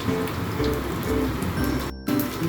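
Ginger paste fries in hot oil in a pan, giving a continuous close crackling spatter like light rain, with a brief dip in the middle.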